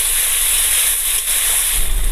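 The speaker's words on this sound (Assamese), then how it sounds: "এতিয়া মই এইখিনি ভালকৈ আৰু অকণমান সময় ভাজি ল'ম।" Okra stir-frying with green chilli and ginger in a hot pan at home gives a loud, steady hissing sizzle that runs unbroken and close throughout, with no talk over it.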